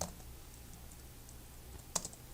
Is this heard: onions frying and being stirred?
no